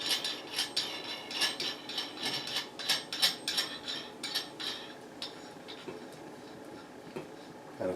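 A small metal lock nut on a dome light fixture is turned counterclockwise by hand. It gives a series of light, rhythmic metallic clicks and scrapes close by that slow and fade toward the end.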